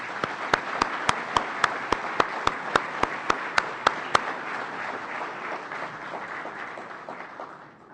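Applause from a conference audience at the FISL17 opening, with crisp rhythmic unison claps over a broad crowd clapping that tapers away after a few seconds.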